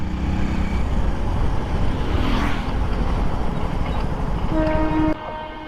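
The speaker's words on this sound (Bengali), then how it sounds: "এখান থেকে ট্রেন যাচ্ছে, বাপ রে বাপ" A train rolling past near a bridge on the way from Kolkata to Chandannagar, a loud continuous rumble and clatter of wagons with a short horn-like tone near the end before the noise drops away.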